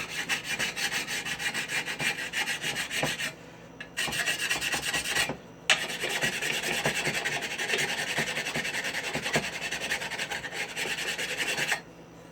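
Small yellow aluminum oxide carborundum stones polish a hand plane's cutting iron in close, rhythmic rasping strokes. Two short pauses break the scraping, and no one talks.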